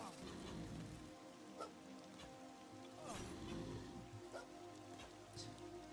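Steady rain in the video game Monsters & Memories, a continuous hiss of drops pattering on surfaces that holds at a moderate level throughout, with a few faint clicks on top and no speech.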